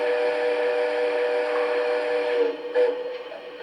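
A Triplex model steam engine whistle blows a steady, chord-like multi-tone blast for about two and a half seconds, then tapers off with a short final toot.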